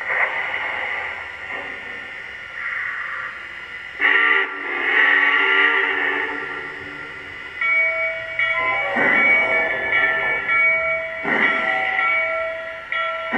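A locomotive rolls steadily along the rails in a train simulation, with a continuous rumbling run broken by whistle-like tonal blasts and a few brief swells, no talking.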